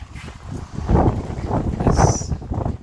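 Steady gusty wind buffeting the microphone outdoors at an old abandoned sugar mill in Guadalupe, California, rising and falling in rough waves over a low rumble throughout.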